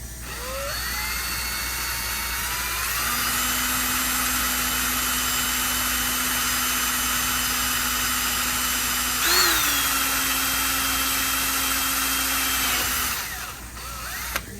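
Steady high-pitched whine of a power drill boring a hole in a workpiece held in a vise, running continuously at a near-constant speed close up, with a brief pitch wobble before stopping.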